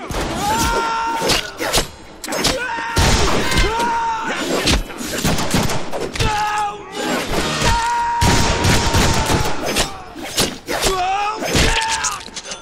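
Shotgun blasts, shattering and heavy thuds pile up almost continuously during combat in the Deadpool video game, loud and dense, with game voices heard among the gunfire.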